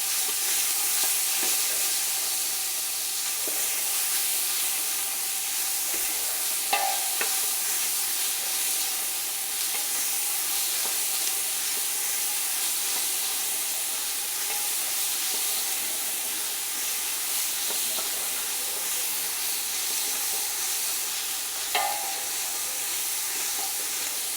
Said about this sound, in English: Add our onions and our carrots. We're just going to saute those for a couple of minutes